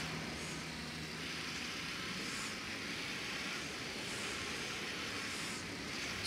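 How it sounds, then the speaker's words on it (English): A scouting drone in Ghost Recon Wildlands hovers and flies overhead, its steady motor drone and whir running continuously at moderate level, with no talking. "Come on, drone, let's scout this area."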